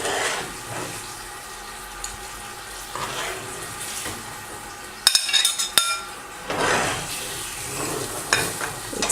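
Meat pieces lifted from a pot of Afghani qabili palao onto a plate, with soft scraping and stirring, a few sharp clinks of metal utensil against pot and plate midway, and a faint background sizzle.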